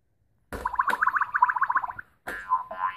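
A sound-making toy gives off a rapid series of bright electronic chirps and boings as a toddler presses its buttons. After a short pause a second, warbling tone burst follows, fairly quiet and close.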